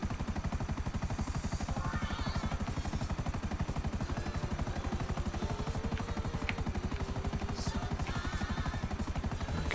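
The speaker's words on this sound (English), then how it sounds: "And off with our second helicopter." A video game helicopter thrums with a fast, steady rotor chop throughout, loud and continuous, with faint scattered game effects over it.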